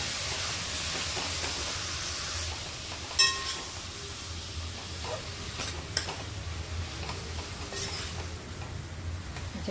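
Grated carrots for gajar halwa fry and sizzle in a pan with a steady hiss, broken by a few sharp scraping stirs, close and moderately quiet with no talking.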